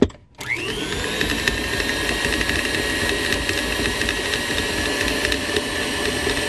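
An electric mixer creams butter for cowboy cookie dough, switching on abruptly after a short pause and then running as a steady, loud motor whir with a faint rattle throughout.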